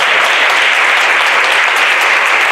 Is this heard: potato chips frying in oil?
no